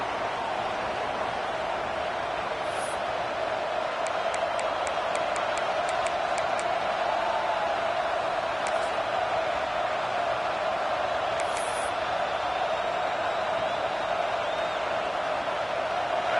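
Steady crowd roar fills a stadium at an American football game, a broad continuous wash of many voices with a few scattered whistles rising briefly above it.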